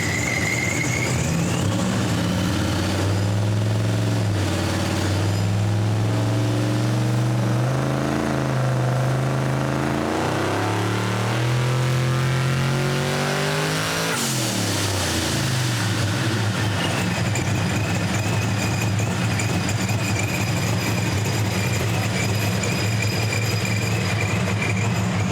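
A Pro Street 1969 Chevy Nova engine runs on the dyno, its loud roar rising in pitch through a long rev, peaking around the middle, then dropping back to a rough idle.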